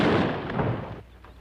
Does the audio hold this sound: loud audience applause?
no